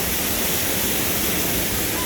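River waterfall pouring down, a loud, steady broadband rush of falling water close by, continuous and unbroken.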